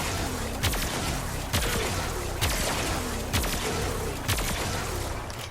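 Opticor Vandal, a powerful charged beam rifle in Warframe, fires four heavy shots at roughly one-second intervals, each a sharp low impact over a constant dense roar of game sound.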